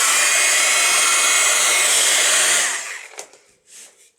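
A heat tool blows a loud, steady roaring whoosh over distress-inked tags, close by, then cuts off after about two and a half seconds, leaving a few soft handling taps.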